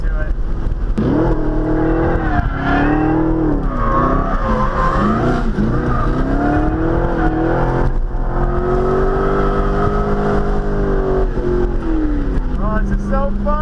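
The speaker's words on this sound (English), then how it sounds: "We're hot lapping a road course and drifting" A car drifts while hot lapping a road course, engine revving and howling with rising and falling pitch along with a sustained tire whine, loud and close throughout, while a voice talks over it.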